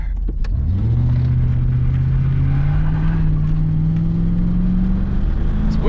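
A 1994 Dodge Dakota truck with a 5.2L V8 engine pulls away and accelerates, its deep engine rumble rising steadily in pitch through the gears, loud and close from inside the cab, with no talking.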